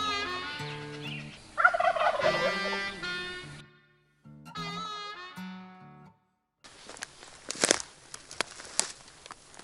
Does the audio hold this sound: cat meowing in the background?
no